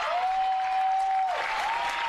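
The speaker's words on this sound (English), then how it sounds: "This crowd has come alive." A crowd at a women's college soccer match between Tampa and Queens applauds a goalkeeper's diving save, steady clapping and cheering from the stands, with a whistle sounding over the top.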